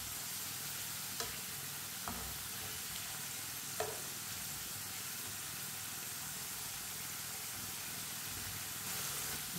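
Potato chips fry steadily in hot oil for snacks, a soft continuous sizzle throughout with a few faint clinks of stirring.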